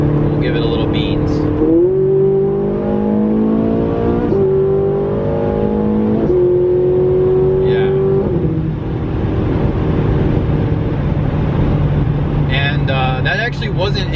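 A Ferrari 458 V8 drops through the gears, blipping and rising in pitch with each downshift, then pulls harder in fourth, the loud engine note climbing and fading under a man's speech inside the car.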